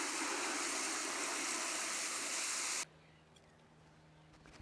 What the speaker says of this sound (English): You just open it and pour some water on it.